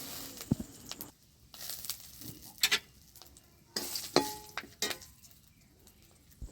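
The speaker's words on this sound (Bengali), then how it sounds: "একই তেলে শুকনো লঙ্কা, তেজপাতা, গোটা জিরে ফোড়ন দিয়ে দেব।" Dried red chili, bay leaf and whole cumin hit hot oil left from frying potatoes, making soft sizzling bursts with stirring clinks and rustles in between. The sound is close but fairly quiet, with no talking.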